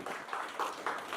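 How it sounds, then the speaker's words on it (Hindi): An audience claps for chief guest Ravi Kishan as he is welcomed with a garland. The applause is faint and distant, a steady run of soft, regular claps lasting about a second. "तालियां आपकी जरूरी है यहाँ पे"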